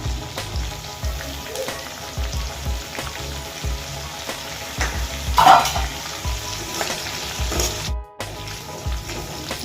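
Chicken legs fry in a pan with masala, garam masala and coriander leaves, giving a loud, steady sizzle with repeated scraping and knocking of a spoon stirring close by.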